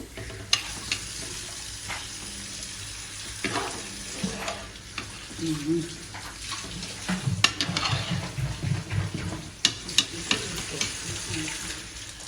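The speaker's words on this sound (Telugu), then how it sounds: "తర్వాత ఒకసారి బాగా అయితే కలుపుకోవాలి" Prawn biryani is stirred in a pot after water goes in, giving close wet swishing and bubbling with scattered scrapes and clunks that grow busier toward the end.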